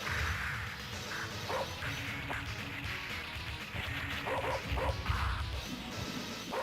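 An enemy dog in the 1992 beat 'em up Rushing Beat gives several short, sharp barks amid punchy game hits and thuds over continuous background music.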